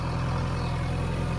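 A stopped tractor's engine idles with a steady low, even throb, close and continuous with no other sounds.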